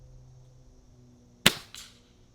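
A Gamo Magnum Pro .22 pellet rifle fires as its trigger breaks: one sharp, close crack with a quick, softer follow-up snap, set against near silence.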